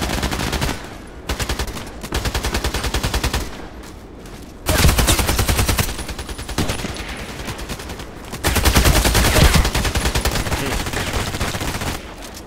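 Gunfire in the online shooter game Contract Wars, with loud, close rapid automatic bursts that keep stopping and starting and brief gaps between volleys. No voices are heard over the shooting.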